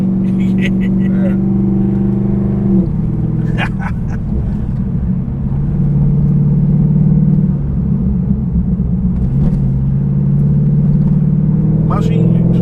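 A cammed 2013 VF SSV Commodore V8 giving a steady loud, lumpy low rumble with a slight rise in revs, with voices heard over the engine.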